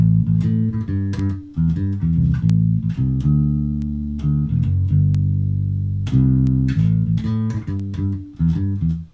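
A bass guitar plays a bouncy, syncopated southern rock boogie line of plucked low notes, some held out, then resumes its rhythmic riff, with no voices.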